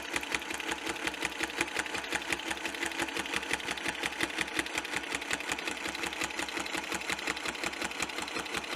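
A sewing machine stitching quilting lines with a Westalee Spin-e-fex ruler, running at an even, rapid, steady rhythm of close mechanical clicks and hum without pause.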